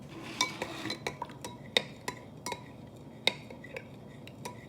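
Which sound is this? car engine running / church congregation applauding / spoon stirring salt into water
spoon stirring salt into water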